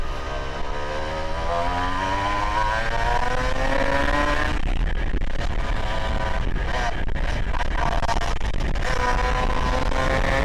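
A restored Honda NSR 150 R two-stroke motorcycle engine revs hard, its pitch sweeping steadily upward toward 12,000 RPM before breaking into rough, sputtering bursts and climbing again, loud and close throughout.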